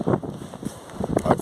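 Gusty outdoor wind buffeting the microphone in uneven, low rumbling bursts over about a second and a half, fairly close and moderately loud, with no one speaking.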